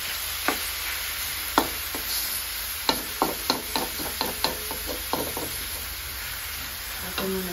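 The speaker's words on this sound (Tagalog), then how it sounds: "ilagay ko na yung ating karne. Ginisaan natin siya." Meat sautés in hot oil in a pan for Bicol Express, a steady sizzle with a run of sharp clicks and taps as it is stirred, close and even throughout.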